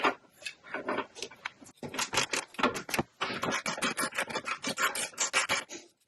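A breaker bar cracks loose 16mm hex bolts on a Tesla large drive unit, giving close, rapid rasping and scraping bursts in uneven rhythm with short pauses between strokes.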